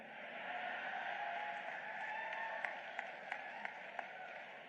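Audience applause at an outdoor poetry gathering in a village, a steady wash of clapping held at moderate loudness for several seconds, with a few sharper individual claps standing out near the end.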